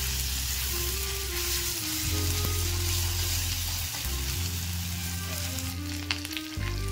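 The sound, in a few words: ginger and spices being stirred and fried in pan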